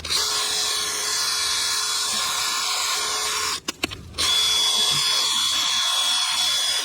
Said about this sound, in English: I'm going to clean the surface with a wire wheel. On a drill